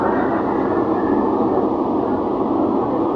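Kolkata Purple Line metro train runs on its track, a loud, steady, close rumbling roar with a faint tonal whine riding above it, continuous throughout with no pauses.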